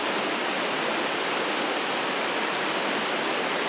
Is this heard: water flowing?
yes